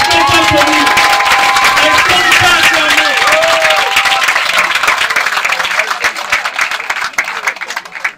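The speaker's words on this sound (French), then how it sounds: "Est-ce qu'on peut applaudir, s'il vous plaît?" Applause from the guests at a customary wedding ceremony in Gabon, dense and loud clapping with a mix of voices and cheering, sustained for several seconds before thinning toward the end.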